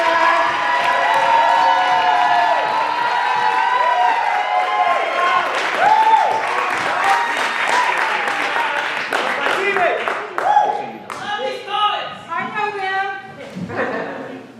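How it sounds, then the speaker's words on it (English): A poetry slam festival crowd cheering and clapping for a competing team, loud shouts and whoops over dense applause that thins into scattered claps and excited voices toward the end. "if I could please get some audacious, wonderful, amazing, raucous applause for Team Ghost Spectre"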